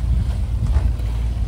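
A small boat out at sea off Porbandar, heard as a low rumbling engine drone mixed with wind buffeting the microphone, loud and close for a brief moment.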